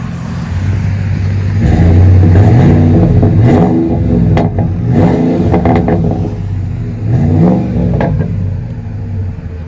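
A Ford F-150 with a 5.4L Triton V8 and aftermarket exhaust revs repeatedly outdoors in the rain, loud throaty rises and falls in engine pitch with a deep rumble between blips.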